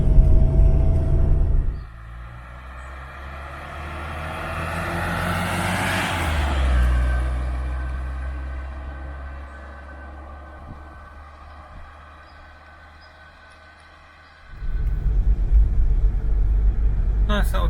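A 1970s Ford Cortina Mk4 on a country road in Dorset near Cranbourne, a steady low engine and road rumble heard from inside the car that swells and fades as it drives, with louder cabin noise at the start and end.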